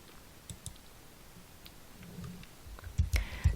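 Computer mouse clicks while working through a form on a screen, a few soft, close taps spread across the clip with a cluster of sharper clicks near the end, over quiet room tone.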